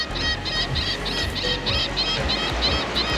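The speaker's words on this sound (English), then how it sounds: "That bird's yelling at me" A bird on a Puerto Morelos beach gives a quick series of about ten evenly spaced, piercing chirps. They ring out clearly over steady wind and surf noise.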